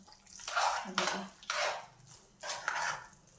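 A spoon mixes semolina batter for sweet ash gourd fritters in a bowl, making four close, wet, swishing scrapes at a steady, unhurried pace.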